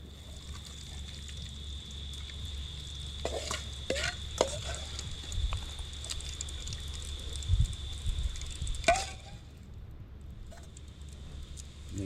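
Saltfish sizzles quietly in a pan for a Jamaican ackee and saltfish meal, with a soft steady frying hiss broken by scattered clinks and stirring scrapes.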